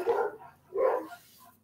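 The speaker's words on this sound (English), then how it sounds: "And the dogs are going crazy." Dogs bark nearby in a residential yard, two loud barks about three-quarters of a second apart followed by a fainter yip, with no voices over them.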